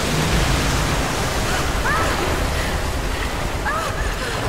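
In Rise of the Tomb Raider, a broad torrent of water rushes and roars continuously, loud and washing over everything, with faint squeaky tonal chirps surfacing briefly.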